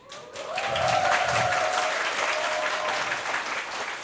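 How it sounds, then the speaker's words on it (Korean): Sustained audience applause fills a hall at a hospital's spiritual nursing seminar, steady and dense from start to finish with a faint tone lingering beneath the clapping. "박수로 맞아주세요."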